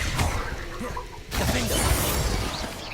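Confringo blasting spells go off in Hogwarts Legacy, two bright crashing bursts with shattering, whooshing texture, the second hitting hard after a brief lull, dense and loud throughout.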